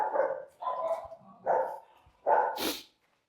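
Dogs during an obedience training session give four sharp, loud barks in an uneven rhythm, close by, with a brief whimper between them and a short noisy burst near the end.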